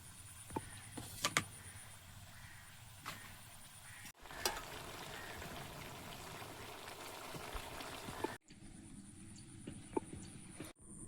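Meat curry with potatoes and tomatoes cooking in a pan: a faint, low sizzle and simmer with occasional light clinks and stirring noises, broken by brief quiet gaps.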